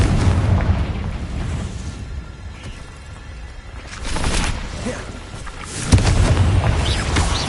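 Confringo blasting spell from Hogwarts Legacy going off as loud booming bursts, one swelling near the middle and a sharper blast toward the end, over a dense rumbling game soundscape.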